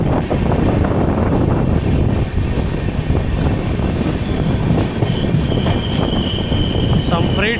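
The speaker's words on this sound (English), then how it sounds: "A Concord freight is arriving." A Concord freight train arrives on electrified Indian railway track, its wagons rumbling loud and close with high wheel squeals building near the end.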